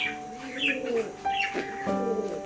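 A grizzle pigeon coos close by, a few soft, throaty, rising-and-falling calls in a quiet space.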